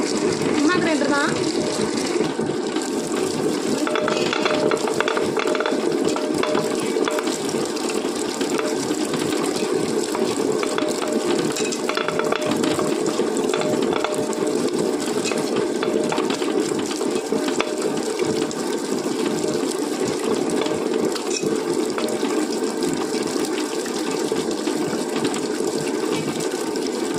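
A mixie grinder runs without pause, grinding soaked rice and lentils into adai batter. It makes a loud, steady, churning whir for the whole stretch, close by, with no breaks.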